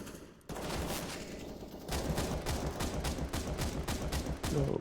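Gunfire in the video game CS:GO: rapid automatic bursts crack out in a fast, evenly spaced rhythm, loud and close, with a brief pause before the shooting starts and continues to the end.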